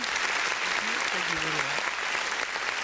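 At an alumni association launch at a polytechnic, an audience claps for a newly elected member, a continuous wash of applause under which a man briefly thanks the crowd.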